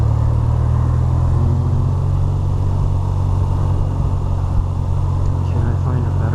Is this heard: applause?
no